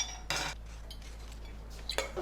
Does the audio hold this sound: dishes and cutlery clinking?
yes